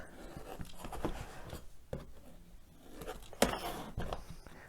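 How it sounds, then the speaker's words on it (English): A rotary cutter rolls through fabric while trimming a rounded shape on a stabilized bodysuit, giving soft, intermittent scraping and crunching strokes with a few sharper clicks, close and quiet, with no talking. "I'm going to take my rotary cutter and very carefully cut a rounded shape."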